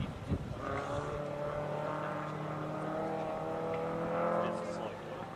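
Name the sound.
rally car driving on forest stage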